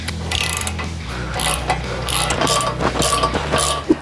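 Ratchet clicking while removing front fender bolts on a Harley-Davidson Softail Sport Glide: close, rapid metallic ratcheting in bursts, with faint clanks between strokes and no voices.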